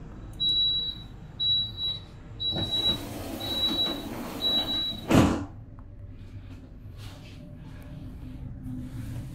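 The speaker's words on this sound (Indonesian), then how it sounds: "Hati-hati, pintu akan ditutup." Aboard a Jayabaya Executive New Generation stainless train, a door-closing warning beeps five times in a high repeating tone, then the doors shut with a single heavy thud, followed by quieter cabin rumble.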